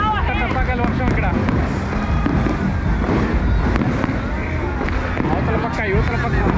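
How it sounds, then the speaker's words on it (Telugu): New Year 2024 fireworks and firecrackers pop and crackle all along a Pattaya street on Soi 6, a constant barrage of sharp bangs under the loud hubbub of a talking crowd. "టపాకాయల వర్షం ఇక్కడ,"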